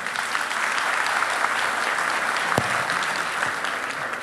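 An audience claps at a women's gathering in Denizli, a dense, even round of applause that holds steady throughout with no other sound rising above it.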